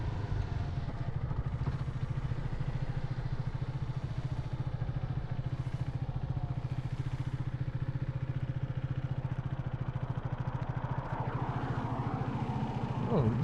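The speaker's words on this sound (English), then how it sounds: "Any excuse to ride a new bike." A motorcycle engine runs steadily underneath as the bike is ridden, a low even drone at moderate level with faint wind and occasional higher mechanical tones.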